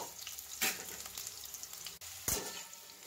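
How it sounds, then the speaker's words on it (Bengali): Steady crackling sizzle of potatoes frying in hot oil, with a couple of brief louder bursts as the pieces are stirred. "তেল গরম হয়ে গেছে, এর মধ্যে আমি প্রথমে আলুগুলোকে একটু ভেজে তুলে রাখবো।"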